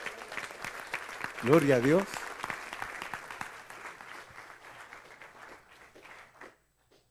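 Church congregation clapping hands in praise during a Spanish-language Bible study on Exodus, a steady crowd patter under a preacher's voice and a sung or shouted phrase, fading out near the end.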